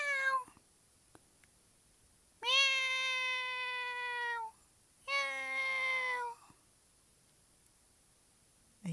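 A cat meows twice, each call long and drawn out, with quiet pauses between and a short faint cry at the start.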